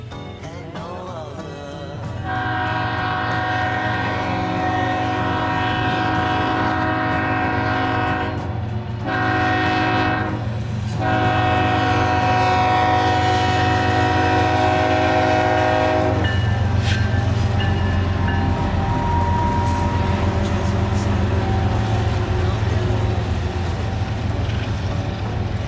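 A freight train rolls past at Lindale with a long, loud horn blast sounding over the steady rumble of the cars, then the horn cuts off and the grinding clatter of wheels on rail continues.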